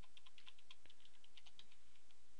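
Quiet, close taps on a computer keyboard come in a quick irregular run of individual keystrokes over a faint background hiss.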